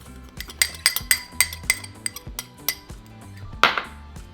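A spoon clinks rhythmically against a bowl while carne asada marinade of lime juice, minced garlic, oregano, orange powder and cumin is mixed, with close, bright, regular taps and a louder knock near the end.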